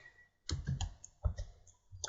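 Typing on a computer keyboard while working in CorelDraw: a few quiet, close clicky keystrokes in two short clusters with pauses between.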